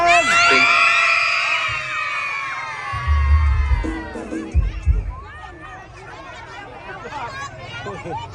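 A crowd of spectators, many of them children, shouts and cheers at a candle festival parade at Wat Phasukkaram in Warin Chamrap, Ubon Ratchathani, with loud rising whoops at first, then scattered yells and chatter, and an announcer's voice joining in.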